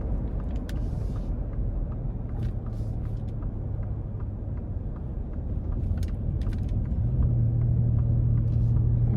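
A 2024 Ford Expedition King Ranch with a 3.5 twin-turbo V6 accelerates onto an interstate, a steady low engine rumble and road noise that swells and deepens toward the end, with no talking.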